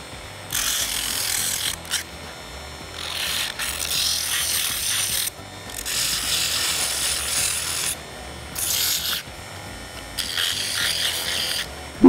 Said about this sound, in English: if we want to make surface better, we have to use sandpaper.